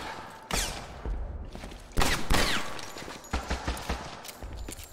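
Gunfire in the World War II shooter Medal of Honor Airborne comes in several separate bursts and sharp cracks, moderately loud with brief pauses between volleys.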